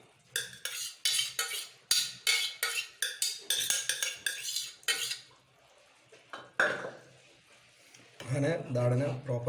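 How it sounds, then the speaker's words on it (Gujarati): A spoon scrapes and clinks against a cooking pot as dal is stirred and mixed, quick metallic strokes in bursts, with a voice speaking near the end. "અને દાળને પ્રોપર મિક્સ કરી અને થોડો સમય એને ચડવીશું"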